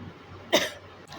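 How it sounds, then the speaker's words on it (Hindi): A single short cough, fairly soft, standing out briefly from low background hiss. "सॉरी, थोड़ी सी खांसी हो रही है, मेरी तबीयत ख़राब है"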